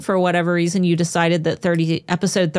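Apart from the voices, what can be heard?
No distinct noise like a dog, phone or traffic.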